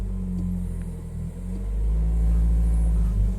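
A 2019–2021 Toyota Corolla hatchback idles steadily with its throttle locked, a low continuous engine rumble that swells slightly without revving up.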